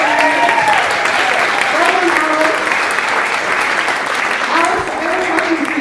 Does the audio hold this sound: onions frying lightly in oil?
no